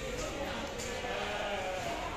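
A large Karuli goat bleats amid the steady crowd noise of the Deonar goat market, a continuous murmur of animals and people with no clear single call standing out.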